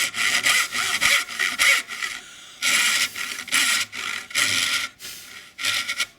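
A hand saw cuts a pine board in steady back-and-forth strokes, each one a loud, rasping burst. The rhythm runs evenly with one brief pause partway through, close and alone.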